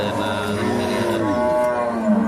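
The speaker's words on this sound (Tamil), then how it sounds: "சந்தையில் எக்கச்சக்கமான மாடு வருது" Cattle at a busy livestock market moo in long, deep, loud calls close by, with a steady crowd murmur behind.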